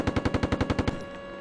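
Short machine gun burst in a military video game, about ten evenly spaced rapid shots close and loud, then fading ring-out.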